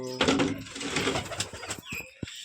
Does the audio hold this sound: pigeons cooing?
yes